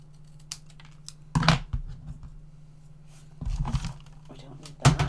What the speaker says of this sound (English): Snip off that section.